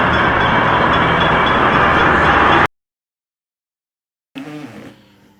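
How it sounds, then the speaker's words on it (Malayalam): A passenger train bound for Melbourne city, Australia, rumbles loud and close for about three seconds, then cuts to silence before a brief, quieter burst of train noise returns and fades. "ഈ ട്രെയിന് മെൽബൺ സിറ്റിയിലേക്കാണ്"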